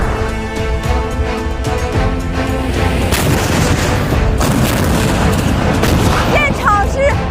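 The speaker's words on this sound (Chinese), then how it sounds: "今天新式榴弹炮进行极限射击区域的考核" Vehicle-mounted howitzers fire on an open range in a continuous loud roar of booms and blasts, with no break in the din.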